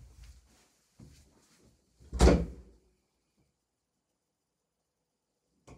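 A door is opened indoors to let a cat through, giving one sharp, loud clack or bump. Faint soft movement comes before it, then near silence follows.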